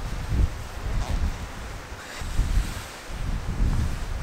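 Strong wind gusts through an autumn mountain valley in the wild Antrona valley, a low buffeting roar swelling and easing in waves over about four seconds, with rustling against the microphone and no voices.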